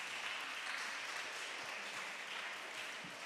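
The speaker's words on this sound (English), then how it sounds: "Let's appreciate our contestants with a round of applause." Applause from an audience at a school science and maths quiz competition, honoring contestants after a true-or-false round; dense, steady clapping fills the whole stretch without talk.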